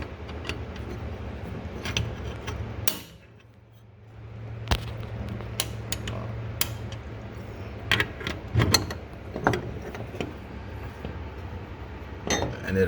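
On a New Holland LX865 skid steer, a glass door is swung shut into its latch, giving a sharp clack followed by scattered metallic and glassy clinks and rattles, close by over a low engine hum.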